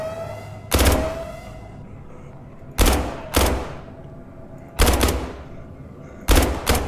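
Gunfire in the video game SCP 5K, four sharp bursts spaced about two seconds apart, each a loud crack with a fading ringing tail over low background rumble.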